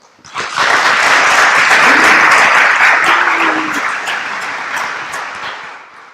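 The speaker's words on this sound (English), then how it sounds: "Let's give them a round of applause." An audience at a school board candidate forum bursts into applause, swelling quickly to a loud, sustained round of clapping that gradually tapers off.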